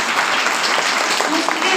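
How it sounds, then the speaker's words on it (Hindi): A congregation applauds at a Sunday church service, a dense and steady burst of clapping that fills the whole short stretch at close range. "एक बार ताली बजा दो"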